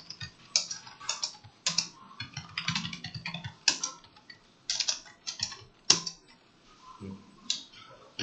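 Fingers typing on a computer keyboard while writing posts, with quick irregular clicking keystrokes in bursts and brief pauses, close and moderately quiet.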